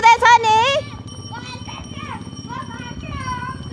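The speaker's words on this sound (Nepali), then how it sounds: "यो घोडा बलियो छ नि" Horse hooves clip-clop in a steady, moderately close rhythm on a mountain trail in Mustang, Nepal, under talking voices, including a child's.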